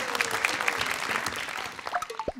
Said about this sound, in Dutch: Applaus voor de juffen, meesters, papa's, mama's, opa's en oma's die mij hebben geholpen.